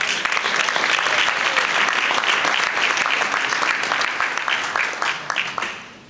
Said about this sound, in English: Come on, let's applaud.